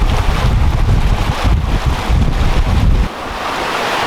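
Strong wind roars across the microphone as waves rush and surge against a sailboat at sea, running at about 8 knots on a passage toward New Zealand. The sound is loud, continuous and gusty, easing slightly near the end.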